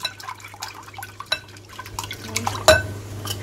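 Eggs with a pinch of salt are mixed in a bowl for shawarma crepe batter, giving irregular wet sloshes and light clinking taps of utensil against the dish over a low steady hum.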